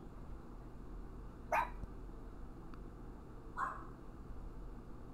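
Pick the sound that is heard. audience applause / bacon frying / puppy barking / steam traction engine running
puppy barking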